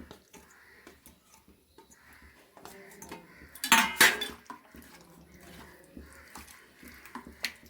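Marinade for steamed snakehead fish being mixed in a bowl, faint clinks and scrapes of a utensil against the dish, with a louder clattering burst midway, fairly quiet overall.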